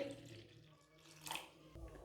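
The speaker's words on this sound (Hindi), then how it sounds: "पानी डाल लेंगे।" Water pours briefly into a bowl of wheat flour mixed with salt and ground black pepper, a quiet short splash close by, with faint handling sounds around it.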